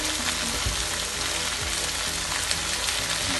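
Flat beans fry in a hot pan with a steady, dense sizzle and crackle, occasional soft stirring scrapes breaking through the continuous hiss, close and fairly loud with no talking.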